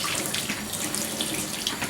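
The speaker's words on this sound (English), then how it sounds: "Now you just want to use some warm water to just rinse out the soap now." Warm water runs steadily from a tap, rinsing soap out of hand-dyed yarn in a sink, a continuous close hiss and splash with no voices.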